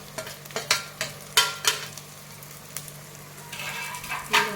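Finely chopped capsicum and cabbage are stirred and roasted in a pan for Mumbai-style pav bhaji: a series of crisp, rhythmic spatula scrapes over a light sizzle, ending in a brief burst of frying hiss.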